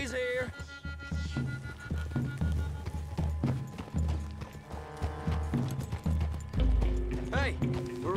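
Horses' hooves clip-clopping in a video game, a loose walking rhythm of close knocks over the whole stretch, mixed with game sounds and a heavy thump near the end.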